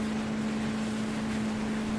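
A boat engine in a military video game drones steadily beside a low constant hum and windy rushing noise. There is no talking.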